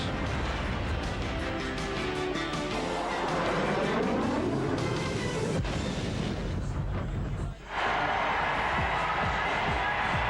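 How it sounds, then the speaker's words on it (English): Arena crowd at the United Center roaring before an NBA Finals game, a loud, continuous wall of cheering that surges and swells throughout, with a brief dip near the end before returning at full volume. "They're already roaring at the United Center"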